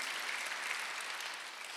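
Church congregation applauding during a Sunday worship service, a steady wash of many hands clapping at once, fairly faint and even throughout, with no voices over it.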